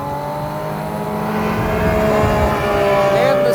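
A Porsche 718 Spyder RS engine hums steadily with a rising, strained tone as revs climb, loud and close, with a faint whine toward the end.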